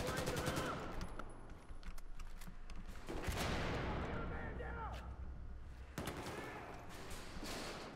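Gunfire in the multiplayer shooter game Battlefield 4 on PC: rapid automatic bursts and repeated shots in quick clusters, fairly quiet, with a player talking over the action.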